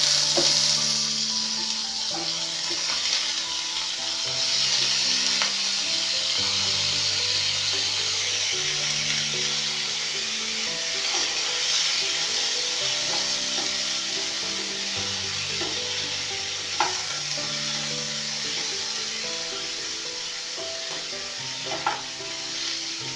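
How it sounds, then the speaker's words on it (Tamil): Potatoes fry with sautéed onions in a pan for a potato and capsicum curry. A steady sizzle runs throughout, under repeated scraping and stirring strokes of a spoon against the pan. "வெங்காயம் வதங்கியாச்சு இப்போ நம்ம உருளைக்கிழங்கு போடுவோம்"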